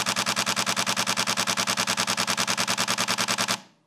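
Canon 1DX Mark III camera shutter firing in medium-speed continuous burst, a rapid even train of about thirty crisp mechanical clicks, close and loud, stopping abruptly near the end.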